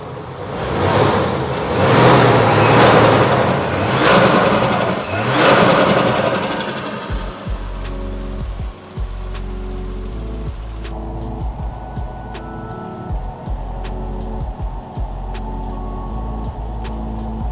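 A Walbro 255 in-tank fuel pump fitted to a turbocharged VL with an RB30 engine primes with a loud buzzing whir for several seconds, then settles into a steadier, lower hum with intermittent clicks, close by and with no talking.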